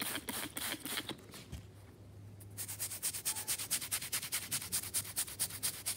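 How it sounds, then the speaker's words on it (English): A stain on a mattress being scrubbed by hand with a brush, close and rhythmic, a brief pause then fast repeated back-and-forth strokes with a dry rasping texture. "I'm just gonna give a nice little scrubbing"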